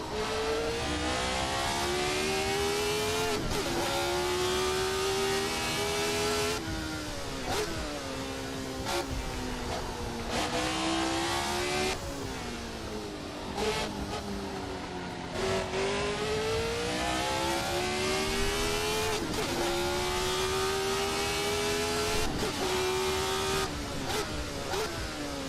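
A 1970s Formula 1 car engine in a sim racing game screams continuously and loudly, rising through the revs and dropping sharply at each gear change in a repeating pattern, with no talking.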